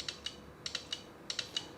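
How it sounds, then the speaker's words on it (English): Several faint, crisp clicks from the orange button on a OnePlus 9 5G phone, pressed repeatedly in quick pairs and singles, close up and quiet against a hushed background. "And that click though, yeah, it sounds good"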